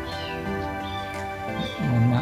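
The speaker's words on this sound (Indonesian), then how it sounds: "Mohon maaf ada suara kucing yang mengganggu." A cat meows a few times, a drawn-out plaintive cry rising near the end, fairly close, with no talking.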